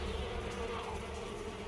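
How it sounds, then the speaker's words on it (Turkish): Defending honey bees swarm around an invading hornet, making a dense, steady buzzing hum that stays even and continuous throughout, close and fairly quiet, with no voices. "Savunmacı bal arıları sürü halinde hızla eşek arısının etrafını sararlar."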